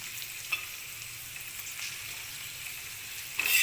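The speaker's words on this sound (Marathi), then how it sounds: "हाय फ्लेमवरती भेंडी चांगली फ्राय करून घ्यायची 5 मिनिटं अजून।" Okra frying on a high flame in a pan with little oil, a steady soft sizzle running throughout with a few faint stirring clicks and a louder burst right at the end.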